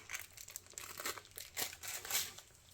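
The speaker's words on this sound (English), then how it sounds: "let's get a piece of paper towel organised and my scissors" Paper towel crinkled and handled at a resin-crafting workbench, a run of close, loud crackling and rustling bursts with no talk.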